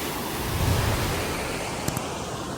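A mountain river rushes beneath a wooden bridge on the Mestia–Ushguli route in Georgia, a loud, steady broadband roar of flowing water heard up close, with no voices.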